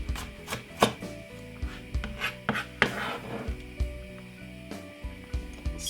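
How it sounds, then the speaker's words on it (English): A knife chops spring onion on a board in a kitchen. The blade strikes in quick, uneven taps, close and crisp, and no voices are heard. "Cut up your spring onion a little bit small"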